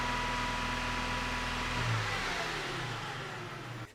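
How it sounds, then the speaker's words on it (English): A Holden Rodeo's Alloytec engine, which has a stalling fault, cranks and catches, then idles and revs briefly with a steady mechanical hum, close by and fairly quiet. "let's start it up and just give it a few revs"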